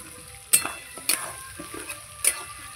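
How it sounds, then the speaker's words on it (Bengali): Chopped onion frying with potatoes in a pan, a soft continuous sizzle broken by three sharp spatula scrapes and clinks against the pan. "আলুর সঙ্গে ভালো করে ভেজে নেব"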